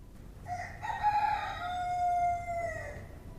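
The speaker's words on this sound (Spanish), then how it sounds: "En ese momento, un gallo cantó." A rooster crows once in a long, clear cock-a-doodle-doo that rises and then trails off, heard close and alone against a faint, quiet background.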